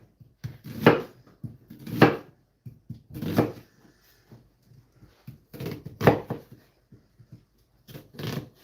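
Knife chopping onions on a cutting board, about six separate bursts of cuts spaced a second or so apart with quiet gaps between, close and fairly loud, no talking.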